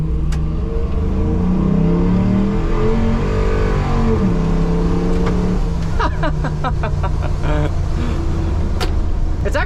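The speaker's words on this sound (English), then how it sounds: "Listen to this V8." A 1970 Ford F250 pickup with a swapped-in Coyote V8 revs while driving, its loud engine drone rising and falling through gear changes, with brief clicks and a voice in the background.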